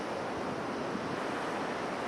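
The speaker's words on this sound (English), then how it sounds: "Just look at these cranking waves." Ocean waves break at the J-Bay surf point in a continuous roaring wash, with wind buffeting the microphone and no voices over the steady surf.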